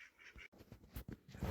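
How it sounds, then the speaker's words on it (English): Ducks quacking close by at dusk on a bush homestead, a quick cluster of short, raspy calls with one brief gap, fairly quiet and without talk. "The ducks don't want to go to their cage at night."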